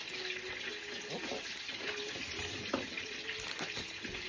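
Chopped onion frying in a pan in a home kitchen, a faint, steady sizzle under a constant background hiss, with a few soft utensil scrapes and clicks scattered throughout.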